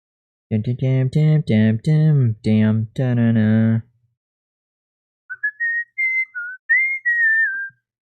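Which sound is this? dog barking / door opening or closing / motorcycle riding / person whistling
person whistling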